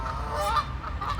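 Geese by a lake honk loudly and agitatedly in a quick burst of overlapping calls, close by and alone without talk.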